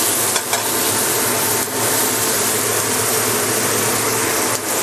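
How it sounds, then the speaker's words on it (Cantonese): Bitter melon sizzles loudly in a red-hot wok with garlic and fermented black beans, a dense steady frying hiss with faint stirring scrapes, no talk. "我哋就放呢個苦瓜落去啦"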